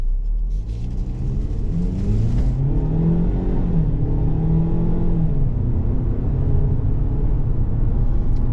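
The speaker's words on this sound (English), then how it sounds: "And this 2-liter EcoBoost really gets this vehicle up to speed nicely." A 2023 Ford Bronco Sport Badlands with the 2-liter EcoBoost engine pulls away under acceleration, its engine note climbing steadily in pitch through the gears. The sound is close, continuous and loud inside the cabin, with no talking.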